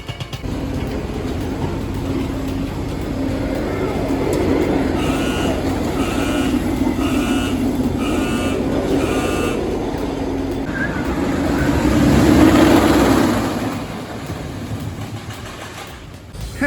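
The Boss, a wooden roller coaster at Six Flags St. Louis, gives a loud, continuous rumble of the coaster train. A run of repeated electronic beeps cuts through midway, then the roar swells before fading; no one speaks.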